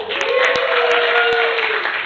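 A live audience claps hard for the event's videographer, a brief dense burst of steady applause with a few voices calling out over it.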